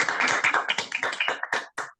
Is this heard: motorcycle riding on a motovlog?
no